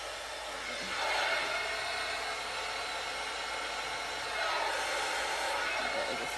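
A heat gun blows over a fresh acrylic paint pour, making a steady airy roar of the fan and heater that swells slightly louder twice as it moves closer, with no talking.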